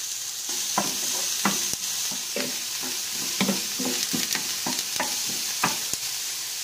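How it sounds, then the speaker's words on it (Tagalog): Onion and garlic sautéing in a pan for red fried rice, with a steady sizzle under repeated scraping stir strokes that come in an uneven rhythm, close and clear. "Haluto na ang sibuyas bawang"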